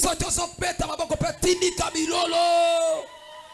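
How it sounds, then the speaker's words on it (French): Church congregation at a Sunday worship service cheering and shouting, loud overlapping whoops and yells in quick bursts that give way to one sustained held cry before fading. "Si tu acclames, tu pousses les cris."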